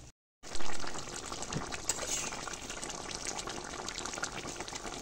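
Tomato and silver carp fish curry boiling in a pot, a steady bubbling, gurgling wash of liquid that starts after a brief silence and carries on evenly at close range.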